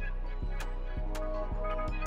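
Reversed brass sample pitched up an octave, produced in FL Studio: a sustained, swelling tonal loop with soft rhythmic thumps about every half second, steady and moderately quiet with no talk.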